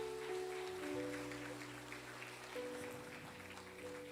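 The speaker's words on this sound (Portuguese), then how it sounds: "Aplaude a Deus," A church congregation applauds, with a faint, steady wash of many hands clapping from a distance beneath low sustained organ or keyboard tones.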